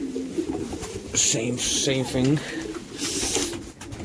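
Pigeons coo in the young bird section of a pigeon loft, repeated soft throaty rolling calls close by, while someone talks over them.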